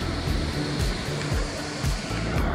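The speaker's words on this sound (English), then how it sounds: "There's definitely a bit of water moving around." Water rushes steadily in a high country creek just below a waterfall in Victoria, a continuous, loud, even roar with no pauses.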